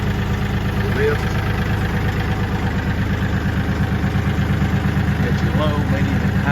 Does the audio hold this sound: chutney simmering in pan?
no